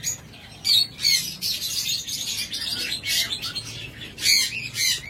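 Lovebirds kept in cages at a bird shop chirp and squawk in uneven bursts, several birds calling over one another with brief pauses between flurries.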